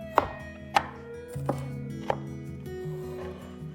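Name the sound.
chopping garlic cloves with a knife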